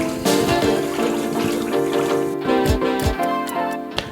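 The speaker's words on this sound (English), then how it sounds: "Now just let the water run until the water runs clear," Cold tap water runs over potatoes in a kitchen pot, a steady splashing stream broken by a few light knocks and clinks, close and fairly loud.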